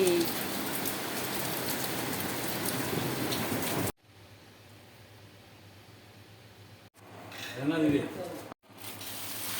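Heavy rain falls in Qatar as a loud, dense hiss for the first few seconds. It then cuts to a quieter, muffled patter, with a short burst of voice and movement near the end.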